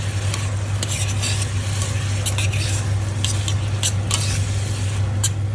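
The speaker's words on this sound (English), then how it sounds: "Now we add our onions, give that a good mix." Onions stirred into browned meat in a pot for Persian celery stew (khoresh karafs): continuous sizzling with scattered spoon scrapes, steady and close, over a low constant hum.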